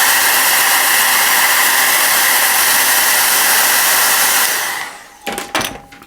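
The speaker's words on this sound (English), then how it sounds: "I'll drop the hairdryer." A hairdryer blows a loud, steady whooshing hiss while drying paint on a miniature, then winds down after about five seconds, followed by a few soft clunks as it is set down.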